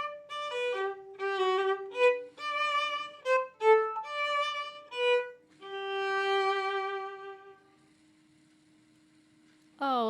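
A solo violin plays a gentle, lilting melody of short bowed notes that gives way to longer held tones, then a single faint sustained note trails off near the end, heard clearly without accompaniment.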